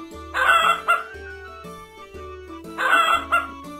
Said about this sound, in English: Now, Mr. Chicken, I'm going to ask you to please quiet down.